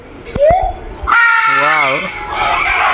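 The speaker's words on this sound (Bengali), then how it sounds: "এত কিচির মিচির, এত কিচির মিচির।" Birds calling loudly in a zoo aviary with many colourful birds, a harsh wavering cry rising and falling among sharp chirps, with people talking nearby.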